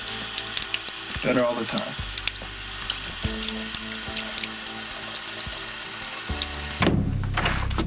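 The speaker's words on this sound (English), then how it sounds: "Put it under the cold water." Cold water running from a repaired kitchen sink tap, a steady close wash under music and a brief spoken line, with the flow surging louder near the end.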